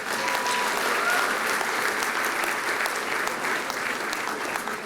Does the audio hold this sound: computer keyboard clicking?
no